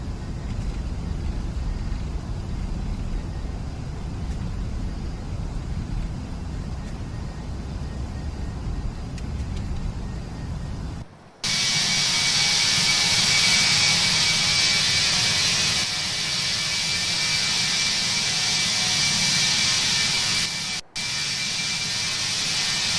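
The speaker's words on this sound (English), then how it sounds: "You can see here in the takeoff roll from the wing view." Jet engine roar from an Airbus A319 rolling down the runway for takeoff in the X-Plane 11 flight simulator, a steady low rumble that abruptly becomes a loud, bright sustained whine and rush, briefly cutting out twice.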